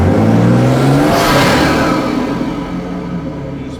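A BMW M240 launches hard with its rear wheels spinning, a loud close engine roar and tyre whir that peak early, then fade steadily as the car pulls away.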